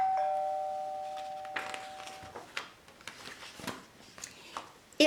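A two-tone doorbell chimes at a home's front door, the first tone ringing clearly and sustained, followed by faint rustling and soft bumps as someone moves to answer.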